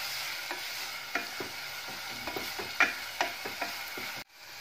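Chopped onion, green chilli and ginger fry in a pan over high heat, a soft steady sizzle punctuated by repeated scraping clinks of a spoon stirring against the pan, close and fairly quiet, with no talking.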